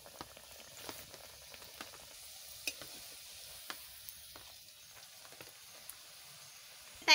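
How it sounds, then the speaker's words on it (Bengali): A chop frying in oil in a home kitchen, a quiet steady sizzle and bubbling with occasional soft pops and crackles. "ভাই আবার তেলের পরে দিয়ে দিচ্ছি।"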